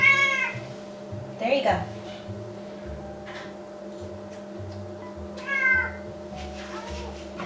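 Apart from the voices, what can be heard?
cat meowing, begging for food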